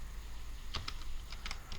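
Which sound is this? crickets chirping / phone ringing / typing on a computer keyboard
typing on a computer keyboard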